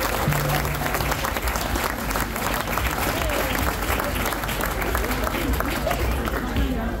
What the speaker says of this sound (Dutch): laten we in ieder geval eerst even beginnen met een groot applaus voor de lopers